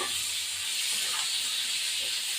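Cauliflower fries in fish oil in a pan while being stirred. A continuous, close sizzling hiss runs throughout with faint scraping underneath.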